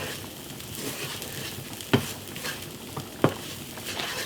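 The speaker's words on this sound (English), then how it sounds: "And then we'll add 3 cups of beef broth to make the gravy. And we'll let that simmer until it thickens." Beef broth gravy simmering in a pan, a quiet bubbling hiss broken by two sharp taps of a utensil against the pan.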